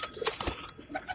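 A Ferozpuri pigeon coos softly at close range: a few brief, low, throaty notes set against faint background noise.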